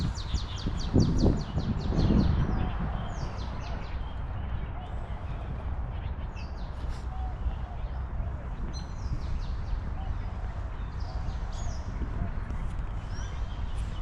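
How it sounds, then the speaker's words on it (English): Birds chirp and call in a flower garden park at Century Park, Shanghai on a warm morning, with scattered high tweets over a steady outdoor background and occasional footsteps or low noise. "we have some happy birds playing off in the, I don't know if they're looking for worms or fighting each other"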